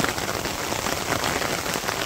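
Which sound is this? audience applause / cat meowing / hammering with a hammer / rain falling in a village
rain falling in a village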